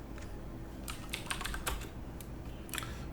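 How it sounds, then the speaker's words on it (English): Rapid, uneven keystrokes clatter on a computer keyboard, close and clear, in short bursts over a quiet background hum. "Oh god, I'm so awful at typing."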